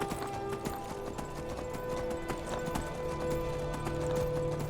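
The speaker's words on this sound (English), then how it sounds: "traveling on horseback from point A to point B" Horse hooves clip-clopping at a steady walking rhythm while riding in the video game Skyrim, close and clear, with faint background game ambience and no talk.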